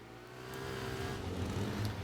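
In a motorbike racing video game, a bike's engine drones and revs steadily and faintly for the whole stretch, with no voices.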